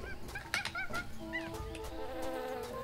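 Bees buzz in the adventure video game Tales of Monkey Island, a soft droning hum mixed with honk-like and whistling game tones over a low background.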